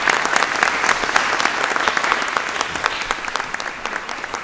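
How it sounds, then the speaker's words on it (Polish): Steady, moderately loud applause from an audience at a Polish secondary school's patron day ceremony, honouring the school director, dense clapping without speech throughout. "Brawa dla pana dyrektora."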